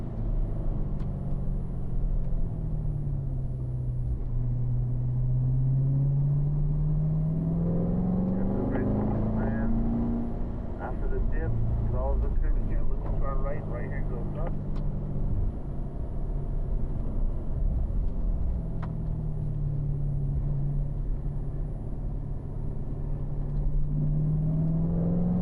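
Corvette on a track braking hard, downshifting and accelerating, the engine note dipping then climbing through a steady, loud rumble heard from inside the car, with a voice coaching over it.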